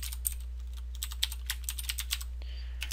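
Code is typed on a Razer BlackWidow mechanical keyboard: a steady run of crisp, clacky keystrokes at an uneven pace over a constant low electrical hum, with no voices.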